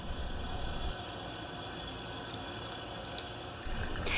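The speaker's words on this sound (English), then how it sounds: "she rinses the toothbrush and denture under cool running water" A cool tap runs steadily as a caregiver rinses a toothbrush and denture under the stream, giving a constant close splashing hiss with no talk.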